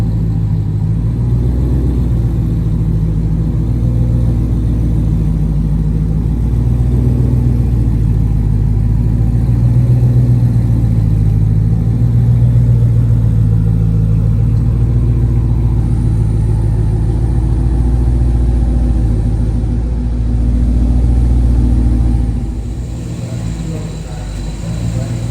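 A tuned street car's engine runs steadily at a low, deep rumble while the car is backed into place, loud and continuous before easing off near the end, with people talking over it.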